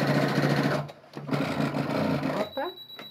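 A domestic sewing machine runs in bursts stitching a fabric wine-bottle holder, its motor buzzing steadily, pausing briefly, then resuming, with a short stop and a thin tone near the end.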